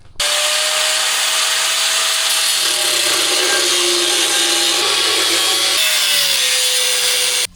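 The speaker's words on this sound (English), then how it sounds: "we can get our freaking angle grinder out here and cut this off" An angle grinder cuts metal on a rare 3408 Marmon truck, a loud, steady, close high whine and grinding rasp that runs continuously for about seven seconds.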